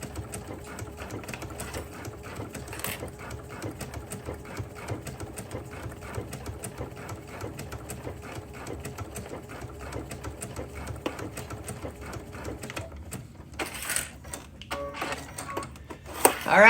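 Sewing machine stitching along a seam ditch with a digital dual feed walking foot, a steady low mechanical hum and needle rhythm running throughout, with a few louder clatters near the end.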